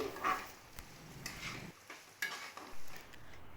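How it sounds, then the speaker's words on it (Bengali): Rice being fried and stirred in a pan for pulao, with a faint sizzle and a series of soft scraping and clacking stirring strokes, close but quiet, no talk. "চালটা এবার কিছুক্ষণ ভেজে নেব"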